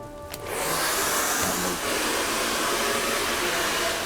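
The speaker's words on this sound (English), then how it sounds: "I usually use my hairdryer just to blast the dust off" A hair dryer blasts dust off skirting boards, blowing steadily with a loud, close, whooshing hiss that runs almost the whole time after a brief start.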